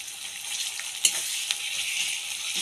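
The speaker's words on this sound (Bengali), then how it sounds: "ভালোভাবে কষিয়ে নেব।" Onion fries in a pan with garlic, ginger and cumin paste, making a continuous gentle hiss and sizzle with a couple of faint stirring knocks.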